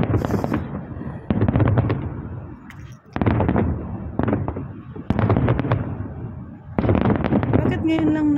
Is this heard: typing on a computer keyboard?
no